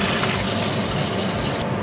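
Cold water pours steadily from a kitchen tap beside the stove. The rushing sound is close and even, and no one speaks.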